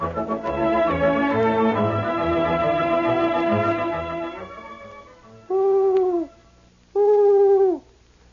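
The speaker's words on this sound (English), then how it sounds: "the owl is a wise old bird" An owl hoot in an old radio broadcast follows a fading musical passage as two separate loud, drawn-out tonal hoots.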